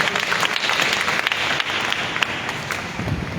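A church congregation breaks into sustained applause, a dense, steady wash of clapping that fills the whole stretch at even loudness with no speech over it.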